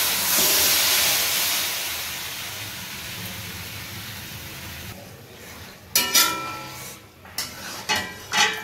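Marinated goat meat hits a hot wok (karahi) with a loud hissing sizzle that gradually settles into a steady fry, followed by a few sharp clatters and scrapes of stirring near the end.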